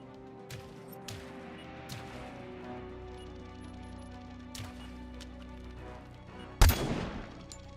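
A single sharp rifle shot cracks loudly near the end in the Robocop: Rogue City video game, standing out over a steady low game ambience with a few fainter distant impacts earlier.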